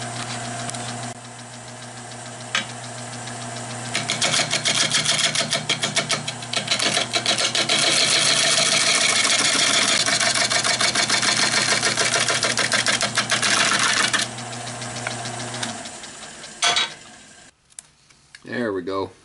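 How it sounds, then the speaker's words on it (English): Wood lathe spinning a bowl blank while a hand scraper cuts the surface, a steady motor hum under a loud, continuous scraping hiss that swells for about ten seconds, then tapers off as the machine winds down. "think I'll do that with my scraper"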